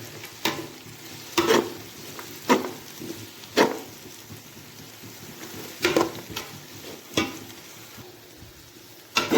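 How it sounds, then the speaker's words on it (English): Empanada filling with tomato paste is stirred in a frying pan, gentle sizzling underneath repeated scraping strokes of a utensil against the pan at a slow, irregular rhythm, close and clear. "So, give it all a stir."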